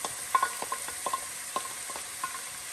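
Onions frying in a pan with turmeric, garlic and ginger for chole, stirred with a spoon: a steady close sizzle under a series of light scraping strokes, with no talking.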